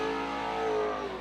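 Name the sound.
stock car doing donuts, engine revving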